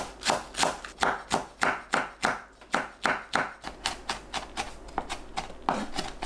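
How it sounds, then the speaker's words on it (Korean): Onion, chives and green and red chili peppers chopped finely with a knife on a cutting board, a steady run of about twenty sharp, close knocks at a quick, even pace with no talk. "양파, 부추, 청양고추, 홍고추를 작게 썰어주세요."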